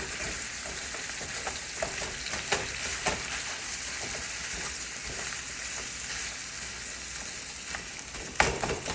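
Beef frying in a pan for enchiladas gives a steady close sizzle, with occasional scrapes and clicks as it is stirred.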